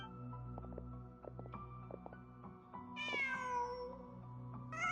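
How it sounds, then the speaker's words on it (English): A cat meows in a video game, a single drawn-out cry rising clearly over steady background music and soft game ambience, with a second short meow starting at the very end. "Huh. Just a cat."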